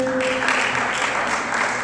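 A school multicultural day audience claps steadily for a performer, a dense, even burst of applause filling the room, fairly loud throughout.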